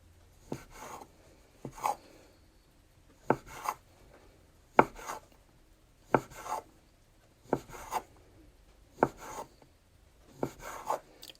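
A knife slicing rolled egg noodle dough into thin strips on a board, with paired soft chopping taps repeating at a slow, steady pace, close and fairly quiet with silence between them.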